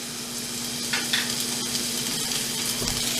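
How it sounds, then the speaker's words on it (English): Coffee-crusted steak sears in a hot pan with a steady, close sizzle and crackle, a constant frying hiss with a few louder pops and no talking. "So we're going to let the other side sear off here another couple minutes"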